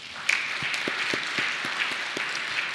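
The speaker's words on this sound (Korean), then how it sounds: "잘 오셨습니다. 박수 한번 하겠습니다." A church congregation claps briefly, a short burst of applause with a few distinct individual claps standing out within the steady patter.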